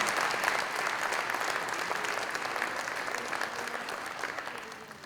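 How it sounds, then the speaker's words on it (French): An audience at a New Year's greetings ceremony in Aix-en-Provence breaks into sustained clapping, a dense wash of many hands that holds steady and slowly fades over several seconds, heard from within the room. "On va l'applaudir quand même."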